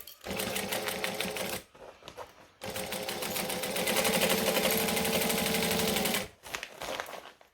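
A sewing machine, cranked by hand, stitches through thick fabric in dense rapid bursts, running about a second and a half, pausing, then running steadily for several seconds before stopping; no talk over it.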